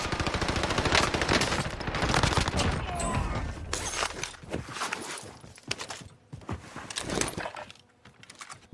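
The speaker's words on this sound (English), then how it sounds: "Just shot an unsuppressed weapon" Loud bursts of unsuppressed automatic gunfire in a video game, rapid shots in dense volleys that thin out into scattered, sharper single reports and clatter toward the end.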